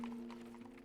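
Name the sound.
horse hooves clip-clopping, carriage horse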